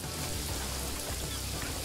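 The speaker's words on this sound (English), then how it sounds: "Oh, it's raining. I didn't know it could rain." Steady rain falls in the video game Paradise Killer, a dense, even hiss of drops spread across the whole moment with no talk over it.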